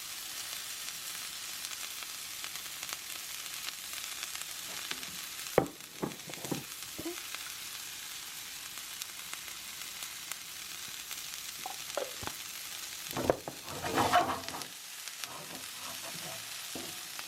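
Onion sizzles in an oiled pan for vegan japchae, a soft steady frying hiss broken by several sharp clatters of stirring and spatula scrapes.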